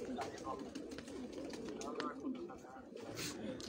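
Pigeons coo on a rooftop loft among a flock of birds, soft repeated calls running steadily under nearby men's conversation throughout.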